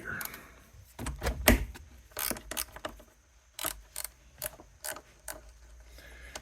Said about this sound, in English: Gear ratchets, guys. Gear ratchets.